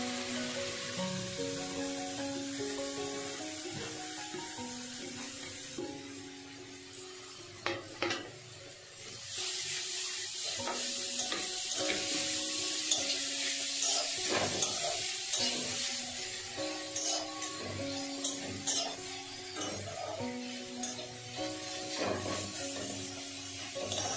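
Three carrots for carrot laddu go into a hot pan and are stirred. A steady sizzle runs under repeated scraping and stirring clatter, loud and close, with no speech.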